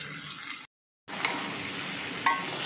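Potatoes are being stirred in a pan, giving a steady sizzling, scraping texture with a couple of sharp spoon clicks and one brief gap of silence, close and moderately loud, with no talking.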